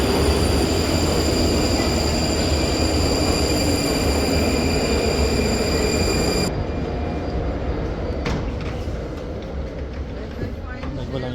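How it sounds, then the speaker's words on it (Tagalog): A train pulls into a station in the Czech Republic with a loud, continuous rumble and whining wheels that ease off partway through, with an indistinct voice in the background. "Nandiyan na yung train."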